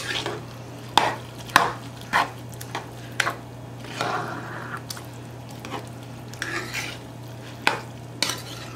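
Rice being given a final mix in a pot during Sunday dinner cooking, Puerto Rican style, sounds as a series of sharp spoon scrapes and clacks at an irregular rhythm, nearly a dozen, over a low steady hum.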